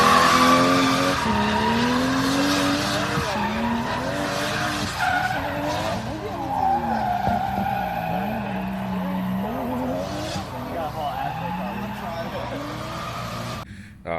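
A lowered BMW E36 drift car slides with long wavering tire squeals and a revving engine, the pitch sweeping up and down over several seconds, fairly close, with a voice talking over it.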